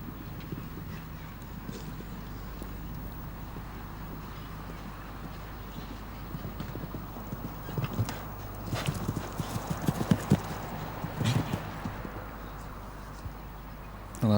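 Horse hooves clip-clop over turf during a show jumping derby at Hickstead, a steady galloping rhythm that grows louder and busier midway before easing off, with faint crowd and commentary ambience behind.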